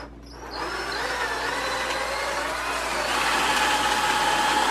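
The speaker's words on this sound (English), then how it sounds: "Drill them." A handheld power drill whirs steadily and close by while driving into wooden framing for a large bird flight cage. Its motor pitch rises slightly partway through, with no talking.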